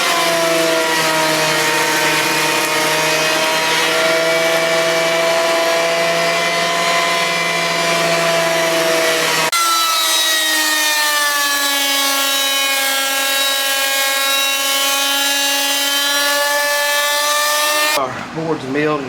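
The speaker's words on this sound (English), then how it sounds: "Well, let's get this planed." Wood boards for a thick kitchen table run through a planer in a workshop. A loud, steady tonal machine whine holds continuously, with a shift in character partway through and again near the end.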